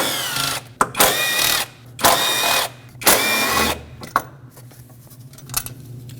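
A ratchet winds out intake bolts on a 2005-2021 Nissan Frontier with a 2.5L four-cylinder, in several close, loud bursts of rapid clicking separated by short pauses. Fainter ticks follow toward the end.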